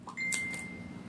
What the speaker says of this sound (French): ah désolé, c'est mon téléphone